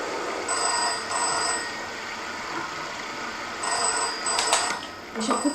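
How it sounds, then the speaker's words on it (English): A payphone rings in a video game, with short bursts of ringing repeating under ambient background noise, sounding moderately near. "Those payphones are killing me. Oh, somebody's on the phone."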